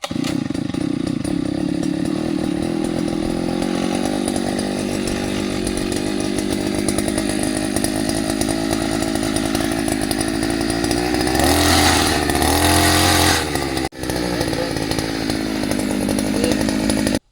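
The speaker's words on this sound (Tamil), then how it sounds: "இந்த எந்திரத்தை வச்சு நாங்கள் வந்து என்ன பண்ணோம், குழி போட்டு நேரத்தில் இருந்து நாங்கள் சந்தன மரக்கன்றுகளை நடவு பண்ணுறோம்" Engine-driven earth auger digging pits for planting sandalwood saplings on a farm, a loud close two-stroke motor droning steadily, rising briefly in strain midway before cutting off near the end.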